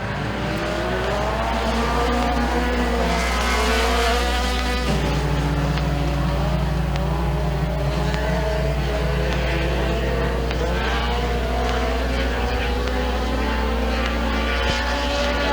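Race cars roll onto the green flag to start a heat at Thunder Mountain Speedway, a dense, loud engine roar sustained throughout with a steady low hum beneath rising and falling revs.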